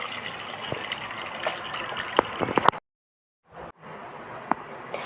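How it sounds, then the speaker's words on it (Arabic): About a liter of water pours steadily into a bowl of chicken brine with salt, sugar, lemon, vinegar and black pepper. The gushing stops briefly, then resumes, close and unaccompanied by speech. "هننزل بقى عليهم بالميه. معايا هنا لتر من الميه"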